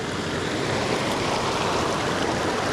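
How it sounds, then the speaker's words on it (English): Small creek on a trout fishing outing, water rushing and burbling steadily at close range, a dense continuous wash with no talk over it. "Tiny stream."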